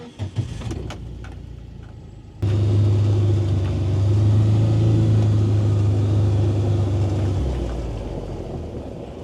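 A car door clunks, then the engine starts and the vehicle drives off toward a wood-drying kiln, a close steady engine rumble that swells and then fades slightly as it moves away.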